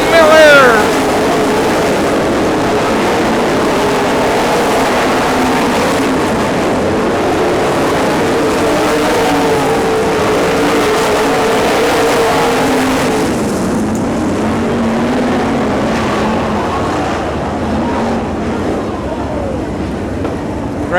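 Race cars roar around a dirt oval in a steady, loud engine drone that persists through the whole stretch, thinning slightly toward the end, with an announcer calling the action over it.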